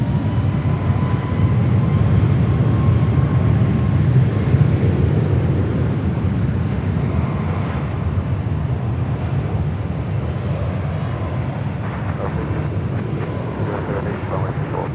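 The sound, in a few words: Southwest airliner taking off from runway 24 left at LAX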